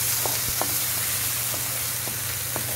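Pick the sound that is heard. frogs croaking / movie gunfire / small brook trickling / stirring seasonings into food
stirring seasonings into food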